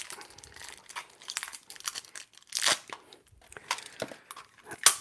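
Wide tape is pulled, torn and crinkled close by in short, uneven crackling bursts with brief quiet gaps, one louder rip near the middle and a final snap, with no talking.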